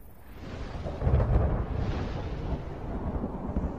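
Deep rolling thunder from a sudden storm over desert highlands, a heavy low rumble swelling after the first second and then sustaining as a loud, continuous roar with no voices.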